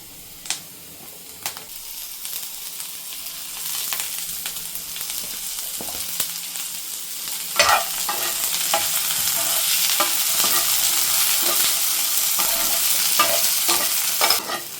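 Onion and three-colour capsicum fry in a pan for a spicy dragon chicken, a steady loud sizzle that builds over time, with several sharp clicks and scrapes as a spatula stirs the vegetables. No one speaks.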